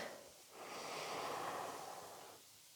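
A single slow inhale during yoga practice, a soft, airy breath drawn in close to the microphone that swells for about two seconds and then fades.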